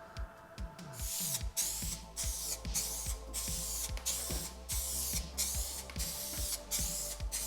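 Short repeated bursts of an aerosol spray can coat a repaired part from a Magirus Deutz 170D11 truck with paint, each hiss separated by a brief pause, close and fairly steady, no voices.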